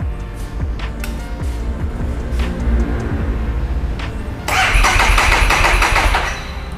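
A Street 500 scrambler motorcycle engine cranks and fires up, then settles into a steady, loud rumbling idle close by, with a burst of brighter mechanical noise partway through.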